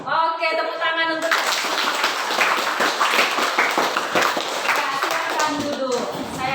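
A group in a classroom claps hands in a dense, sustained burst of applause lasting several seconds, with a voice heard briefly before and just after.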